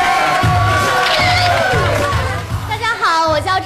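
A studio audience at a Chinese TV variety show cheers and shouts in a lively burst of excited voices, with talk running over it near the end.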